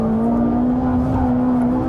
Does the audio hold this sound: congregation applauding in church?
no